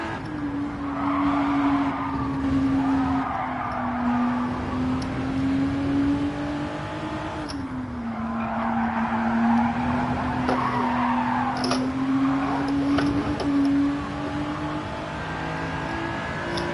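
Car tires skidding under handbrake in Gran Turismo 7, long sustained squeals over a steady droning engine note, with the tone sagging and rising across two extended slides.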